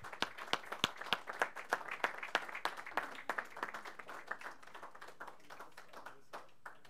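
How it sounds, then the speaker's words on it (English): Audience clapping at a civic innovation awards ceremony honoring the Citizens of the Year. Sharp individual claps ring out briskly, then thin and slow toward the end until only a few scattered hands remain. "Keep clapping, it'd be okay."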